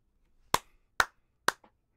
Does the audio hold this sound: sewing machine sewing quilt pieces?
no